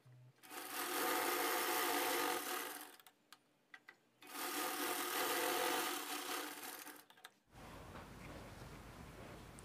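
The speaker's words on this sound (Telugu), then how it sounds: "ఇది స్టిచ్చింగ్ చేసి క్లోజ్ చేసేయండి." A sewing machine stitches the lining of a size 36 boat neck blouse closed, running in two steady, close whirring bursts of about three seconds each, separated by a few short clicks, then a quieter hum.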